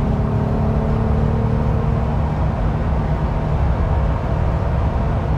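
A Jeep Gladiator fitted with a Steer Smarts steering part speeds up toward highway pace, a loud, steady low engine and road drone that holds throughout.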